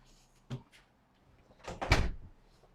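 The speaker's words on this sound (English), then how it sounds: "let me grab this door. I'll shut this door." A household door being shut on a back porch during a home tour, giving a soft bump followed a second later by a louder, fuller thud, fairly close, with no talking over it.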